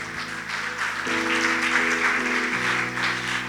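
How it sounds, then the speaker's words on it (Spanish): Church congregation applauding during a Lord's Supper service, a broad steady wash of clapping over sustained organ or keyboard chords that shift pitch a few times. "Dale un fuerte aplauso al Señor"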